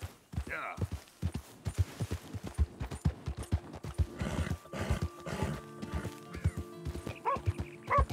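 A dog barks a few times in Red Dead Redemption 2, mixed with horse hoofbeats and game music, with background voices in a town setting.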